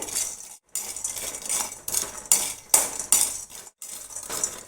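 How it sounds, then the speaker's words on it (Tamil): Asafoetida roasting in a pan for sambar powder, heard as a series of metal spoon scrapes and clinks against the pan in irregular bursts with short pauses, close and moderately loud. "இப்போ இதை எடுத்துட்டு பெருங்காயம் போட்டு வறுத்துக்கலாம்."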